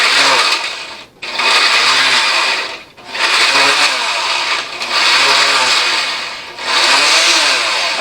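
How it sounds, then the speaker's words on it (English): Kitchen blender pureeing green chili sauce, a loud continuous whirring motor running in long bursts with brief dips and pauses between pulses. "We're going to blend this up a little bit"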